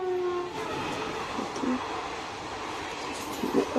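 Train moving along a railway track near Brahmapur station, a steady rumbling wash of rolling wheels with a brief horn-like tone near the start, continuous and fairly close without talk.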